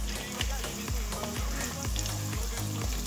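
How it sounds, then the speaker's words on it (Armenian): Sliced mushrooms and onion sizzle together in a hot pan, a close, continuous frying hiss broken by regular low knocks as the mixture is stirred. "Սունկը խառնում եմ սոխին ու միասին տապակում եմ"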